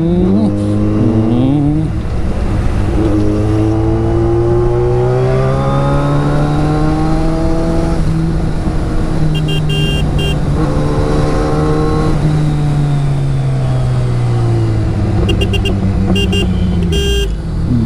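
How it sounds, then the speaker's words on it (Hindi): A loud Hayabusa motorcycle engine revs up through first, second and third gear shifts, pitch climbing and dropping with each change, steady and close throughout. "ये गियर चेंजिंग साउंड होती है ना, first shift, second shift, third shift"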